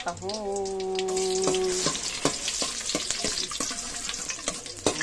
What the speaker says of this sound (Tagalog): Gigisa na natin ang bawang.